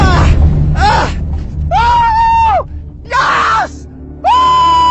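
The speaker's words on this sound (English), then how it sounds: "Now I was screaming like crazy because I know this fish is going to be the catch of my lifetime." An angler shouts and screams with joy after landing a giant river catfish from a boat, a series of loud, sustained, close yells in several bursts with rushing water and wind underneath.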